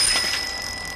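A new bicycle hurled off a building gives a brief, bright ring of its bell that fades within a second, with no voices.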